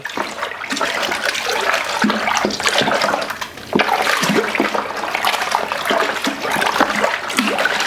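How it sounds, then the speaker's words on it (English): Water pours and splashes into a plastic homebrew beer bucket and is stirred, giving a continuous loud gushing, swirling wash with brief sloshing surges. "give it a good stir, and then I'm going to top up with more water"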